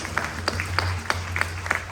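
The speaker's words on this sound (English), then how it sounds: "give all the pundits here in Florida a huge round of applause" An audience at a Ramayana yajna at a Hindu temple in Orlando, Florida, applauds the pundits, with scattered claps standing out over a steady low drone.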